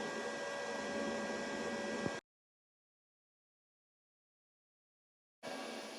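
A DC TIG welding torch gives a steady, loud buzzing hiss with a fixed tone for about two seconds, cuts to silence, then starts again briefly at the end.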